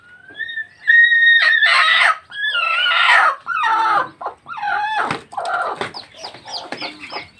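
Domestic native hens being set to brood cluck and squawk up close in a loud, irregular series of sharp, rising calls and short bursts. There are only brief gaps between them.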